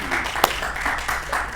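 Short burst of audience clapping at a small live music gathering, a steady patter with one sharp louder clap standing out, heard fairly close.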